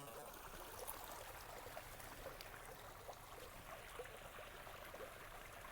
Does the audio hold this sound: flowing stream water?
yes